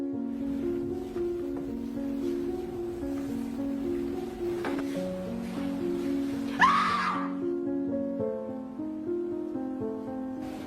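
A woman's short, sharp scream rings out partway through, over steady background music.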